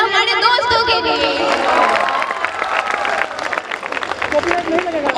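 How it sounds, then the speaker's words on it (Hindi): Audience applause and cheering at a college farewell party, a loud, dense crowd clapping throughout with shouts and whoops mixed in and voices over the top. "तो एक बार जोरदार तालियां हमारे दोस्तों के लिए।"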